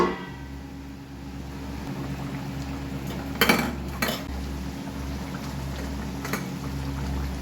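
A metal pot of fish curry with potato and pointed gourd is covered with its lid. A few clanks and scrapes of metal sound over a steady low simmer and kitchen hum.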